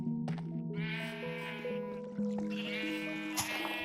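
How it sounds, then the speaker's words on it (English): Several sheep in Minecraft bleat in quick succession, wavering calls overlapping one another, fairly close and alone with no talk. "Waking up to the lovely sound of bleating sheep."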